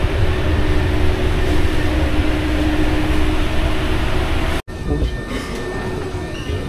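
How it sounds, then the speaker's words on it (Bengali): A Paris metro train, ridden in its last carriage, gives a loud, steady rumble of wheels on rails with a faint squeal, briefly cut off and then resuming. "আমরা মেট্রোতে উঠে গেছি"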